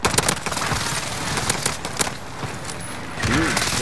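Rapid bursts of gunfire from a shooting video game rattle out near and loud through the opening stretch, with a voice talking over the action.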